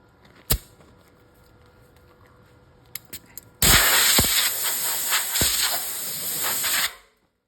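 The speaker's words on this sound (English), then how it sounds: "I just sprayed some of this weld-through primer on there" Weld-through primer sprays from an aerosol can onto the passenger-side fender of a 1964 Chevy Impala: a loud, steady hiss lasting about three seconds, preceded by a few sharp clicks and taps, with no talking.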